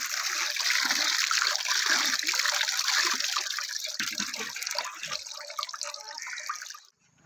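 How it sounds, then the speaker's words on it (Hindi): Liquid drips and trickles steadily as wheat flour paste is squeezed by hand through muslin cloth, a close, continuous splashing that stops abruptly near the end. "पेस्ट बना के तो मलमल के कपड़े से इसका अर्क निकाल रहे हैं"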